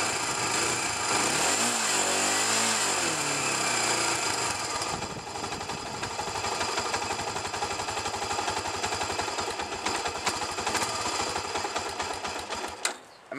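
A Honda 300EX ATV engine, running on old gas with its air filter fitted, idles with a rapid, steady mechanical chatter that is loud and close, wavering slightly before it cuts off abruptly at the end.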